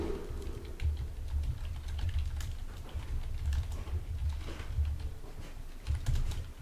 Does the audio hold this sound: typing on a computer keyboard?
yes